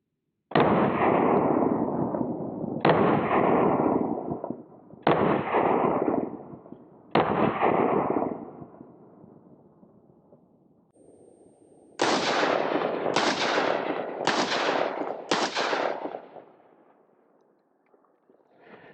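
Eight sharp 9mm pistol shots from a Zenith ZF5, 115 grain full metal jacket rounds, striking a Level III+ armor plate outdoors. Four evenly spaced reports come first, then a faster group of four, each loud with a brief ringing tail.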